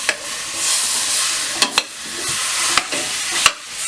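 Ground pork and beef browning in a dry pan without oil, sizzling steadily up close, broken by several sharp clicks and scrapes from a utensil stirring the meat.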